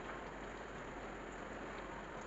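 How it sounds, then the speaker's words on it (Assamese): Midday rain falls outside, heard from indoors as an even, continuous hiss at low volume with no voices and no pauses. "বৰষুণ দিছে দেই বাহিৰত, প্ৰতিদিনাই দুপৰীয়া সময়ত বৰষুণ দিয়ে।"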